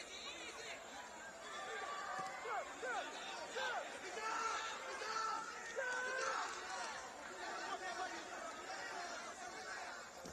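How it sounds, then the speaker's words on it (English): A football stadium crowd at a Caribbean club championship semifinal murmurs and chatters restlessly, a steady distant babble with scattered shouts and whistles. "Crowd restless for a goal now."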